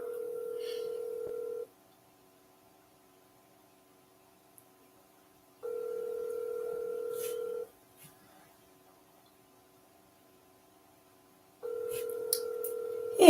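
A telephone sounds three separate steady tones, each lasting about two seconds and spaced several seconds apart with silence between them, clear and close.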